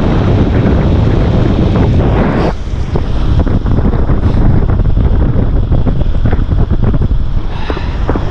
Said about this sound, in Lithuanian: Vėjas gerai šniokščia.